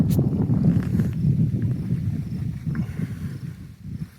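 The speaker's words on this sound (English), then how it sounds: "Oh, that wind is nice." Steady wind blowing over the Lake Michigan lakeshore dunes, a continuous low rumbling buffet with gusty swells that stays loud and close throughout, without talk.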